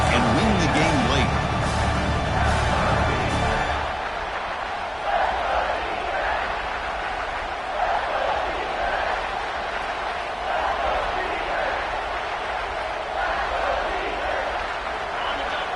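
A college football stadium crowd at Oregon versus Ohio State roars as a broadcast commentator talks over it. The noise is heavy at first, then settles into a broad, sustained din.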